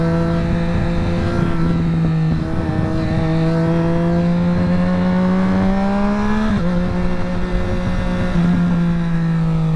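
A Triumph Daytona 765 motorcycle rides on a rainy highway, its engine droning in a steady, close hum with slight pitch rises and one brief dip as it holds speed.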